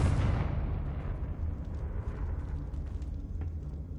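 A Confringo fire spell explodes in Hogwarts Legacy on PS5, a loud, close blast that bursts at the start and then gives way to a long, deep rumbling roar that fades slowly over several seconds.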